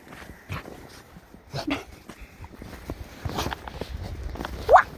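Dogs playing in snow give short barks and whimpers among scuffling paw steps, irregular bursts at close range with a brief sharp yelp near the end.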